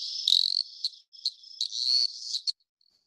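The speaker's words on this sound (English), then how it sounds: "It's sort of a yip, yip, yip sort of call." A frog app plays a repeated high yipping frog call, a series of short bright chirps in quick bursts, fairly faint and heard alone before it stops.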